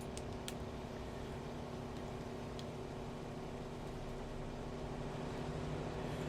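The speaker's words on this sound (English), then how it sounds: "God, that engine sounds amazing." A simulated A-1H Skyraider piston aircraft engine in Microsoft Flight Simulator 2024 drones in a steady, rumbling low hum with tonal overtones, constant and moderately loud, with a couple of brief clicks early on.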